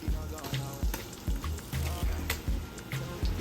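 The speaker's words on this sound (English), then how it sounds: "we're going to put our scallops and shrimp into the skillet" Scallops and shrimp sizzle in a hot skillet, a steady frying hiss broken by soft rhythmic thumps and crackles, close and moderately loud with no talking.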